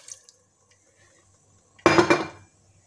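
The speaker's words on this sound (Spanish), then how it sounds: "Y ahora sí, le vamos a añadir el agua." Water is poured into a pot of rice with vegetables, a short, close splash of under a second after a quiet stretch with faint kitchen clinks.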